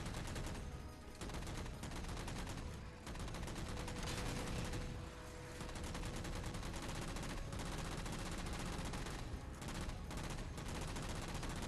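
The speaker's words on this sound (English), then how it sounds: "Lots of plasma pistol enemies." Dense, continuous weapon fire from plasma pistol enemies during a Legendary Halo speedrun relay fills the whole stretch, a loud unbroken barrage with rapid shots layered over each other and no clear pauses.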